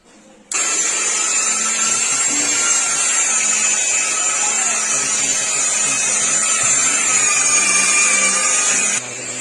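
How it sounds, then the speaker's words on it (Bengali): Polishing machine whirring steadily on a stucco marble-design paint finish with golden oil colour, a loud continuous high-pitched motor drone that starts abruptly and runs for several seconds before dropping off at the end. "এখন পলিশ মেশিনটা ফিটিং হচ্ছে।"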